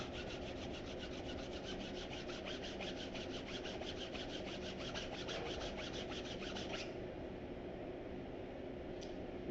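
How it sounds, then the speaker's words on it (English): Leather purse edges being burnished, a steady rapid rubbing rasp with fine repeated strokes that stops after about seven seconds, leaving a quieter background. "And give it a quick burnish."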